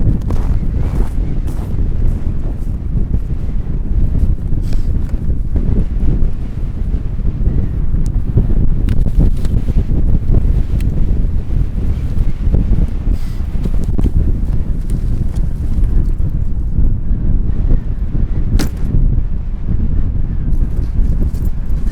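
Strong winter wind roars across a frozen lake during ice fishing, buffeting the microphone with a loud, continuous rush and gusts throughout, with no one talking.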